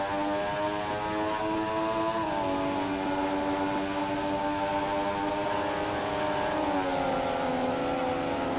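Formula One race cars at the Dutch Grand Prix scream past in a continuous, loud, high-pitched engine whine, the tone shifting as the cars change gear through the corners.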